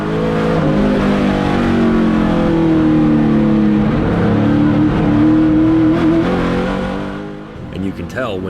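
A vintage NASCAR Monte Carlo race car engine drones loudly under a driver's talk, its pitch rising and falling through shifts before easing off near the end.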